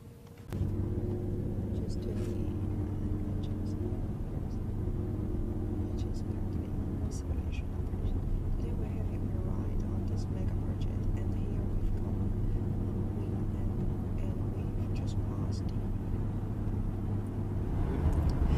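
A car rides across the Hong Kong-Zhuhai-Macau Bridge sea crossing with a steady low engine and road rumble from inside the cabin, constant throughout, with faint talk underneath.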